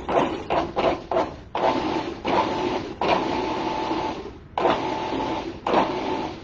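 A food processor pulsing a keto broccoli fritter mixture with bacon, with several loud motor bursts of varying length separated by short gaps, each a whirring, chopping roar, with no talking.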